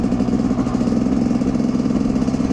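A Rieju MR 300 two-stroke enduro motorcycle from 2021 warming up, its engine idling close by with a steady, loud, rapid burbling pulse and no pauses.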